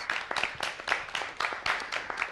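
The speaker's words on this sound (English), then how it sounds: "let's give this young lady a big round of applause" Quiet applause for a young woman at a smoke-free video contest awards, coming in rhythmic surges of clapping from a modest audience.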